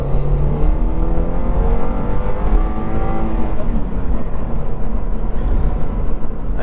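A Subaru BRZ accelerating hard in second gear, its engine revving loudly and steadily from inside the cabin, a continuous rising drone filling the whole stretch without talk.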